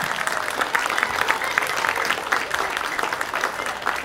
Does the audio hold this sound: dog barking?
no